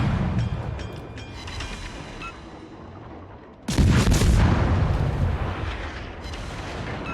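Naval gunfire in a warship video game with a Soviet destroyer: a loud, rumbling boom bursts in midway and rolls on at high volume, after a quieter stretch of distant battle noise, with no talking.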